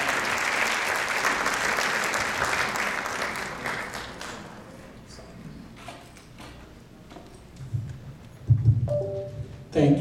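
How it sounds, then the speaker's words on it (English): Applause from an audience at a 20th anniversary celebration, loud and dense at first, then thinning into scattered claps before fading, with a few knocks and shuffles near the end. "Let's give him a big applause."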